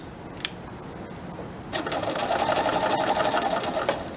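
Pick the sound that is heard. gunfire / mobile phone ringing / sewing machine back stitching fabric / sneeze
sewing machine back stitching fabric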